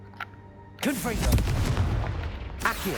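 A Confringo blasting spell fired in Hogwarts Legacy on PS5, a booming explosive burst after a brief quiet lead-in that rumbles and crackles for about two seconds before a second sharp hit.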